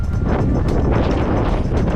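Strong wind gusts buffet the microphone, a loud, rough rushing roar that swells and dips without pause.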